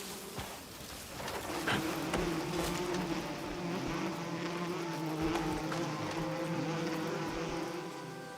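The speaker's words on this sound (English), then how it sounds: "Oh, is that bees?" Swarm of bees buzzing in the Crimson Desert video game, a steady droning hum lasting throughout at moderate loudness, mixed with other game ambience.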